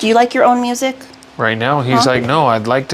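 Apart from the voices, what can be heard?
No distinct noise like a dog, phone or traffic.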